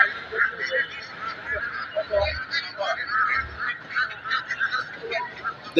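Domestic geese honk repeatedly at the Shafipur bazaar in Kaliakair, Gazipur, giving a string of nasal calls amid steady market chatter and background voices.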